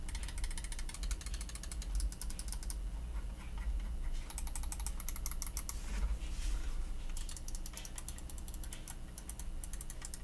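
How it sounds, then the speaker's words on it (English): Steady, fast mechanical keyboard typing, a dense run of crisp clicks and clacks close up, with a few brief pauses and no voices. "here's a quick typing test for y'all to hear what it actually sounds like"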